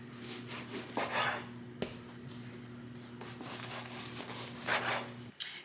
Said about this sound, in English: So we'll get to chopping.